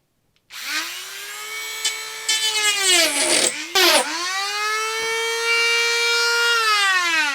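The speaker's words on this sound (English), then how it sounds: "I'm going to have to use a Dremel tool to cut it out" A Dremel rotary tool cuts into EVA foam with a steady high-pitched whine that bogs and wavers as it bites into the material, then climbs back to full speed, close and loud, with no talk.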